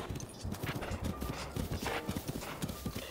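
Horse hooves gallop in a steady rapid clip-clop rhythm throughout, close and clear, in The Legend of Zelda: Breath of the Wild, with no talking over it.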